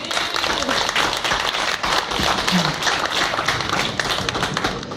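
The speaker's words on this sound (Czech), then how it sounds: "takže jim zatleskejte za jejich odvahu" A festival crowd at a gastronomy cooking competition applauds the contestants. Dense, steady clapping from many hands fills the whole stretch at close range, with some voices mixed in.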